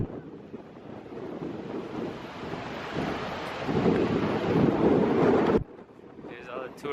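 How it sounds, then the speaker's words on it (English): Gusty wind rushes over the microphone beside Niagara Falls, a loud broadband roar that swells midway, then drops off sharply near the end. "Sorry if it's very windy."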